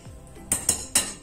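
A utensil mixes sugar into cheesecake batter by hand in a bowl. After a soft scrape, three sharp clinks ring out close by in an uneven rhythm, with no talk.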